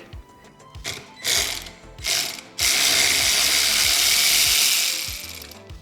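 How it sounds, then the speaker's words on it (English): A ratchet wrench works a nut off the bottom bolt of an engine mount on a Honda Grom clone build, with quick clicking bursts, then a sustained louder ratcheting run that fades at the end. "Got the nut off of the bottom bolt."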